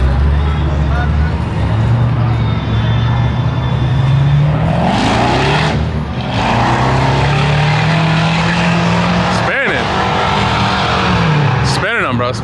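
Car spinning its tires at a car meet, a loud sustained engine roar and tire noise rising and falling over about twelve seconds, with people talking excitedly nearby.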